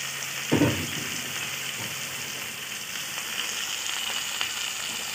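Chicken liver fries in a pan with chopped garlic and ginger, giving a soft continuous sizzle with a brief louder crackle near the start as the pieces go in; no talking.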